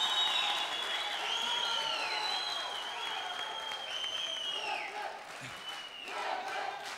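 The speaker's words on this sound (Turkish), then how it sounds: "Neyi alkışlıyorsunuz?" Studio audience of the Turkish TV singing contest Popstar applauding in a sustained wash of clapping and cheering that runs through the whole stretch, with voices audible over it.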